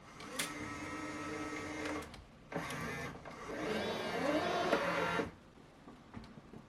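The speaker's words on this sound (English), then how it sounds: "First I will print with PLA basic filament." A Bambu Lab X1-Carbon 3D printer runs while printing PLA basic filament, giving whirring stepper-motor tones in three bursts separated by short pauses, with a rising pitched sweep in the last burst, close and clear with no talk.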